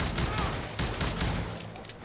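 Rapid revolver gunfire from dual revolvers in the Western shooter Call of Juarez Gunslinger, loud bursts of close shots in quick succession across a busy firefight.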